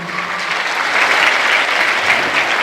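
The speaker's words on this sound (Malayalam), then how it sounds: "നല്ലൊരു കയ്യടി ആദ്യം തന്നാണ്" Children at a school event applaud together, a dense, loud burst of clapping that holds steady for a couple of seconds with no talk over it.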